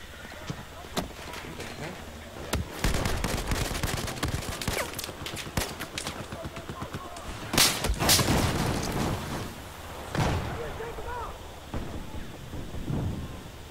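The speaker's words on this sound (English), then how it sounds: "somebody is shooting at you guys" Video game gunfire during a Conquest match on the Hainan Resort map, with bursts and sharp single shots scattered through the clip and a louder volley near the middle, mixed with other game noise and voices talking.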